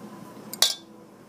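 A teaspoon scooping bacon filling into a mushroom cap gives one sharp metallic clink, close and brief, over quiet room tone.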